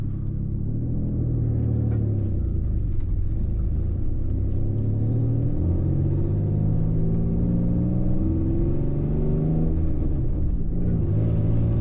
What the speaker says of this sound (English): Love that Bumblebee exhaust. It sounds spectacular.